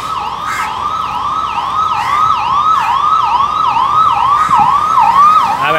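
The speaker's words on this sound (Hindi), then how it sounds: "आप एम्बुलेंस भी देख रहे हो" A loud ambulance siren wails in a fast, repeating up-and-down sweep, steady and close, over faint traffic noise, outside a children's hospital in Parel, Mumbai.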